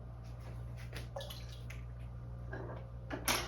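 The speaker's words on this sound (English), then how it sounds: "so I'll rinse this brush out" A paintbrush is rinsed in a water cup during an acrylic painting session, making faint, close splashes and taps against a steady low hum. The final clink is a little louder.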